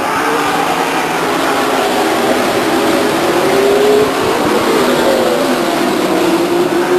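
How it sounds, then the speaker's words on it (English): Race cars roar away on a green flag restart at Stockton 99 Speedway in 1999, a loud, sustained engine drone with rising revs as the field accelerates past, filling the whole stretch without voices. "there's Welch taking the green flag as he comes across the stripe now"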